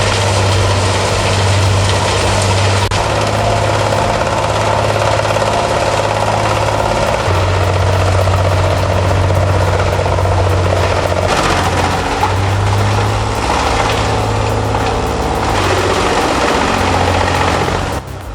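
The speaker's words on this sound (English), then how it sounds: "the Dutch Dragon chipper, processing it instantly in South Lake Tahoe" A Dutch Dragon wood chipper processing vegetation fed by a Valmet 890 forestry machine in South Lake Tahoe: a loud, steady, low engine drone with grinding and chipping texture that continues throughout.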